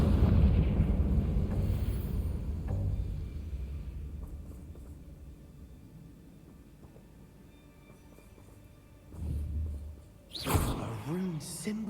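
A fiery Confringo blast spell bursts loudly in the Hogwarts Legacy game, a booming explosion that rolls and fades over several seconds before a second, sharper burst near the end.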